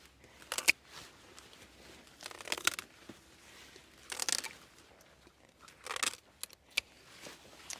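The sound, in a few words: cutting away yacon plant foliage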